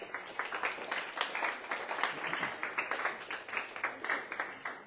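A small audience claps for the St. Mary's Academy chess team, defending champions, at the National School Chess Tournament; scattered, moderately faint applause with distinct individual claps over a few seconds.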